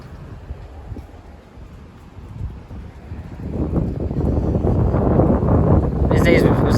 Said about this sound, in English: The wind is making this banner move.